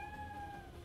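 A single drawn-out cat meow, fairly faint, sits over steady background noise with no talking.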